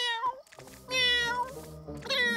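A cartoon cat yowls in a long, wavering, strained meow that rises and falls, repeated in several drawn-out bursts at close range with no talk over it.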